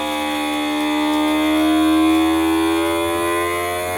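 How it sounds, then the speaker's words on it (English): A Toyuugo automatic vacuum food sealer pumps air out of a bag and seals it, giving a steady, loud motor whine with a rich harmonic hum that swells slightly midway and holds without pause. "it'll do the vacuuming automatically and seal"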